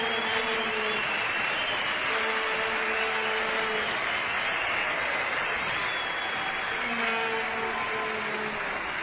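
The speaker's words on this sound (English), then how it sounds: "Warm applause from this rather small crowd, but richly deserved." A small cricket crowd at the Gabba claps warmly for a batsman's one-day international century, a continuous, fairly even wash of applause with no talk over it.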